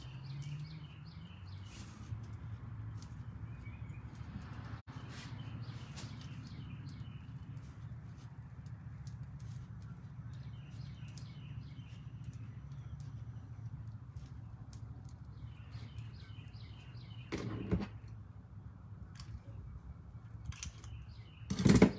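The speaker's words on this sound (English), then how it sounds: "Now y'all hear the birds singing." Birds sing from the trees outdoors in repeated bright chirping phrases over a steady low rumble, with a louder knock near the end.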